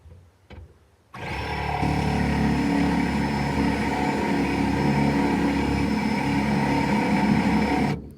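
A power tool bores out a hole in the body of a 1955 Ford Customline to fit a BMW seatbelt bolt. After a brief quiet start, it runs loud and steady with a constant whine for about seven seconds, then stops.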